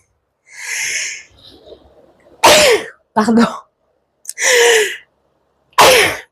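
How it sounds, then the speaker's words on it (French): A woman sneezes close to a lavalier mic, several sharp bursts after a quick preparatory breath, with brief spoken words between them. "Non, je vais éternuer."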